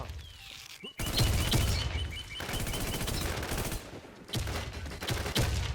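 Gunfire in the video game Midnight: rapid, loud bursts of automatic fire in several long volleys with short gaps, close and harsh, with no voices over them.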